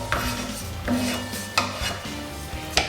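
Poached cod and mashed potatoes are spooned from the pan onto warmed plates, for cod in a Thai-style creamy coconut sauce: a few close scrapes and knocks of a utensil against cookware, spaced out, with a steady low kitchen hum and no talking.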